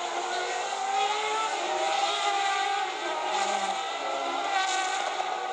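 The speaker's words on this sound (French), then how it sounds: "Et la Toyota qui prend un tour à l'une des Lotus 300 Esprit engagé en catégorie GT par le team Chamberlain" A Toyota race car at the 1993 Le Mans 24 Hours roars steadily at high revs while lapping a Lotus Esprit GT car, a continuous loud engine drone with slight swells as the cars pass.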